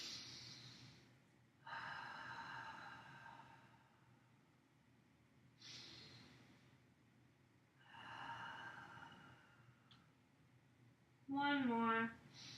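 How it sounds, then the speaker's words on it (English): Slow deep breathing in a seated yoga pose, alternating soft inhales and longer exhales in a calm, close rhythm, with a brief voiced sound at the end. "A couple of deep breaths here."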